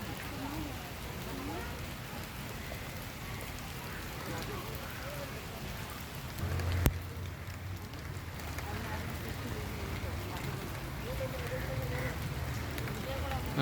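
Steady rain falls at a zoo where a rhino bathes in the rainwater, a constant close hiss of drops with a brief louder rumble partway through, while people talk over it.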